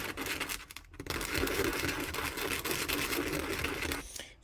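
100 grit sandpaper worked by hand over a stag bead gives a continuous raspy scratching, close and steady, with a brief pause near the start and another at the end.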